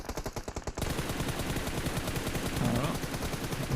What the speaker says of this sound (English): Shots over towards VP.